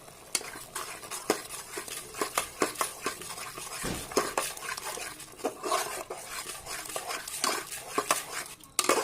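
Chicken stirred and mixed with ready-made roast spice in a pan, giving steady scraping and clinking of a utensil against cookware with a faint sizzle underneath, close and busy throughout.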